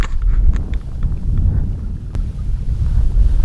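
Wind buffets the microphone on a lake during pike fishing from a boat on a cold, drizzly autumn day, a low, steady rumble with gusts swelling and fading, and faint splashes and knocks.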